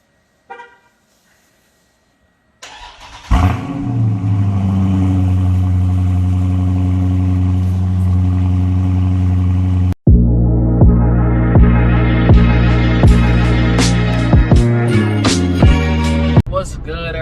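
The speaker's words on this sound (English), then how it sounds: "I think we should start this video off with a cold start" A Dodge Scat Pack cold-starts after a brief quiet: the engine catches with a sharp burst and settles into a loud, steady, throbbing rumble for several seconds before music cuts in.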